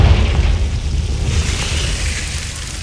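A Confringo fire spell from the Hogwarts Legacy video game bursts with a loud, deep booming blast that rolls and rumbles on, slowly fading over a few seconds, with no voices.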